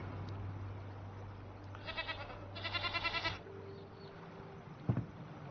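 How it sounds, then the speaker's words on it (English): Goats bleat in the distance in two short bursts of wavering cries, heard over a steady low hum and ambient noise, with a sharp knock near the end. "you can hear the goats"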